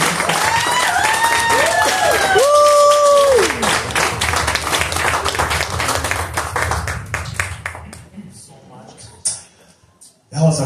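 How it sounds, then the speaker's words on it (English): Audience applause and cheering at a CD release party concert, a dense crowd clapping with whistles at the start and voices mixed in, then thinning and fading toward the end. "Give a round of applause"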